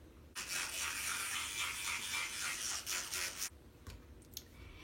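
An electric toothbrush with Crest Glamorous White toothpaste buzzes steadily while it brushes teeth for about three seconds, then stops, leaving faint clicks and rustles.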